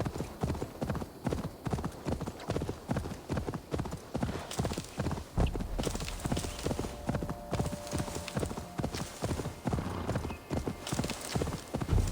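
Horse hooves clip-clop steadily in Assassin's Creed Valhalla as a mount gallops over rough ground and obstacles, a fast continuous beat of close, loud hoofbeats with a brief whinny and game ambience beneath.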